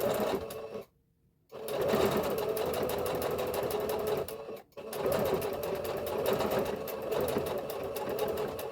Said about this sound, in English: And sew where I have the chalk.